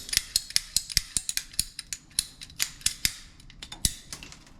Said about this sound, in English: Just cut an air hose, right?